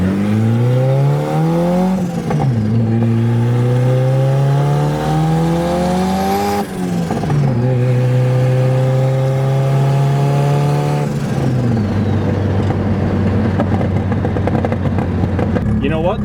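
Datsun car with a spark fault driving, engine revving up through several gears with clear rising pitch sweeps and shift drops, loud and close, with people talking over it.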